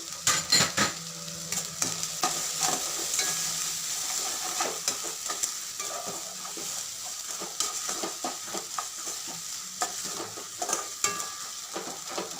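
Onions sauté in a pan with rock salt as a chicken dish is cooked, giving a steady close sizzle with scraping and stirring strokes of a spatula against the metal pan.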